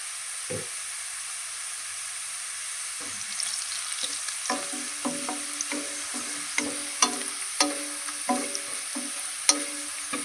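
Brinjal and chana dal curry with onions and turmeric frying in a pan, a steady soft sizzle broken by a run of sharp spatula scrapes and clinks against the metal, close and fairly quiet.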